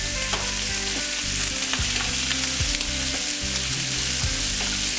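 Diced carrots frying in a pan with diced cooked Italian sausage and pecan halves, a loud, dense, continuous sizzle with faint stirring scrapes and no voice.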